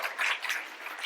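An audience applauds at a Weitzman School lecture event in a brief burst of steady clapping, moderately loud and a little distant, with no voices over it.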